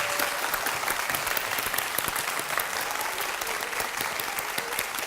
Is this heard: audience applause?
yes